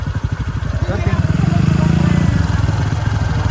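A motorcycle engine idles and revs up loudly nearby at a mountain river crossing, with a steady rhythmic chug, holding for a moment before settling back.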